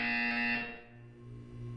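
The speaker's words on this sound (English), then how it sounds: "When you hear the buzzer, look up at the ceiling." An electronic buzzer in the video game Portal 2 sounds loud and steady, then cuts off and leaves a low hum.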